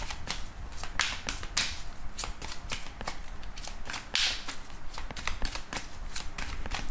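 Arcanum tarot deck being shuffled by hand, a rapid crisp flutter of card riffles and slaps repeating steadily, close up and alone.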